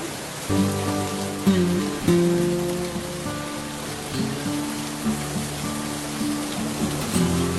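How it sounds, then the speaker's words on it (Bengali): Steady rain hisses in the background while intermittent tonal, music-like sounds rise and fall over it. "ওই দেখো বাইরে কত বৃষ্টি।"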